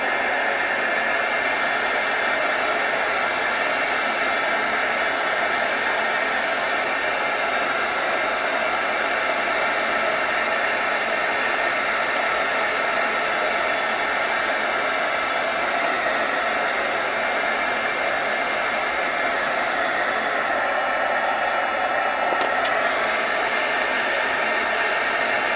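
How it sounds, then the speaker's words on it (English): A heat gun blows hot air in a steady, loud, unbroken roar that holds for the whole stretch without pause, with no voices over it. "If you're not an expert at doing this with the heat gun, you can always put it in the oven."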